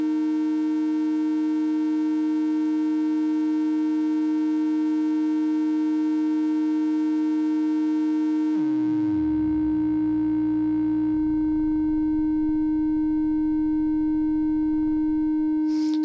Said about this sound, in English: That will leak the raw agitation waveform into the audio path directly. It's supposed to simulate circuit crosstalk.